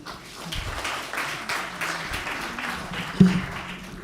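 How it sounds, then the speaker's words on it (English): A conference audience at a stakeholder meeting's opening session applauds, a soft, steady patter of many hands from a distance, with one sharper knock near the end. "Please could we all give each other a round of applause?"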